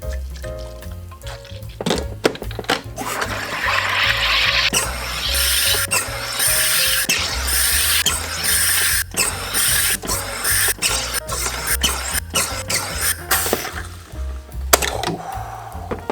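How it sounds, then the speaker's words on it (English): A soda maker hisses and gurgles in repeated bursts as gas is forced into water, with mechanical clicks and sputtering pauses between pulses. "I'm gonna carbonate this twice as much as it recommends"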